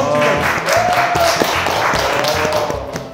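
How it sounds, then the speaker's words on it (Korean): Clapping from a small group of trainees after a runway walking drill in a modeling class, brief scattered hand claps with a voice briefly heard over them. "박수!"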